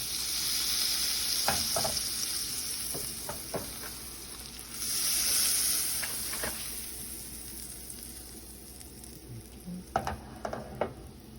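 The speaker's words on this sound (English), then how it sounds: "So I'm going to let the butter just get some of that flavor there within the pan." Butter sizzling in a pan over heat, the start of a roux for kielbasa sausage and shrimp penne pasta, a steady moderate hiss broken by scattered clinks and taps of stirring, with no voices.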